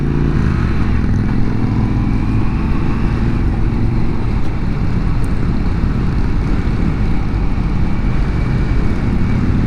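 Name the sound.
FTR1200 motorcycle riding at night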